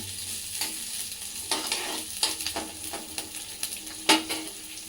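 Food sizzling and being stirred in a pan while stuffed brinjal curry (guthi vankaya) cooks, with steady frying hiss broken by several scraping stir strokes; no talk.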